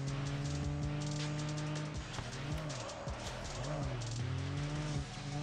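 Engine drone and tire squeal from a car drifting in a mobile racing game on a phone, a steady loud whine with gliding pitch sweeps as the car slides, continuous across the whole stretch.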